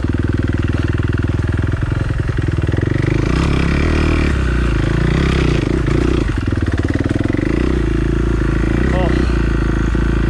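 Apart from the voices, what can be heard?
motorcycle engine climbing a trail hill in first gear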